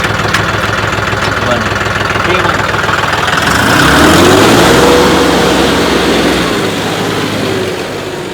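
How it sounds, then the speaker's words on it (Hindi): A John Deere turbo tractor engine runs loud and close, rising into a heavier revving roar midway before settling back to a steady rumbling idle. "पिकअप देखो ट्रैक्टर का।"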